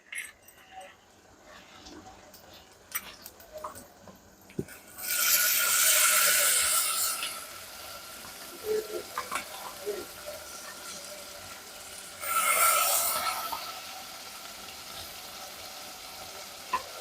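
Minced mutton keema dropped into hot oil in a pan, two loud surges of sizzling frying separated by quieter stirring and scraping, close up with no talk.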